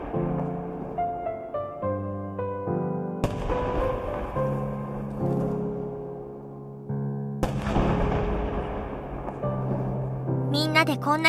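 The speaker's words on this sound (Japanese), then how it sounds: "こんな綺麗な花火が見れて最高ね。" Video game fireworks burst in a series of booming, crackling explosions over layered musical tones, with sharp crackles near the end.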